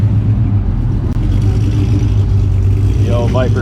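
Dodge Viper V10 idling with a deep, steady low rumble, close by and loud, with a faint rising whine near the end and talk over the engine.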